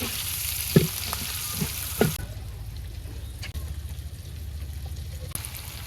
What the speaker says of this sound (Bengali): পেঁয়াজ কুচি দিয়ে দিলাম,